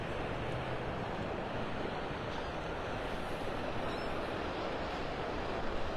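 Ocean surf at Clam Pass Park beach in Naples, Florida washes in a continuous, even roar of breaking waves, steady and fairly soft throughout with no voices.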